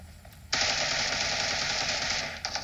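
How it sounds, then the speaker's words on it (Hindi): In the PUBG Mobile video game, a weapon opens up on a motorbike with a sudden, continuous automatic burst of rapid shots lasting about two seconds, crisp and steady before cutting off. "बाइक पे गोलियां चला दी मैंने"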